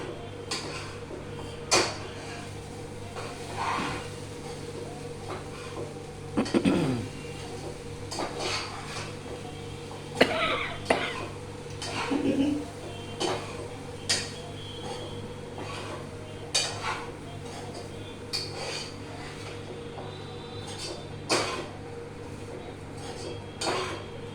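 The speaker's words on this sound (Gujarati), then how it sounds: "અને હવે આપણે ઉપર નીચે કરીને એને મિક્સ કરી દઈએ." Kanda poha with lemon juice is tossed and mixed in a bowl, giving scattered soft clinks, scrapes and taps of a utensil spread across a long, quiet stretch, with a faint steady hum underneath.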